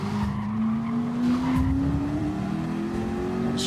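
A race car in Gran Turismo brakes hard while its engine hums loudly and the tires squeal in a long, rising skid.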